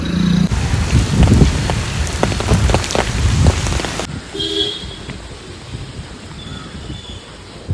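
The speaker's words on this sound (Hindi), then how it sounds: "तो मैं जिस दिन से आई हूँ उस दिन से कंटिन्यू बारिश चालू है, बारिश बंद होने का नाम नहीं ले रही।" Continuous rain pours down outdoors in a steady, dense hiss of drops striking surfaces, loud and close for the first half before easing to a softer, more distant patter.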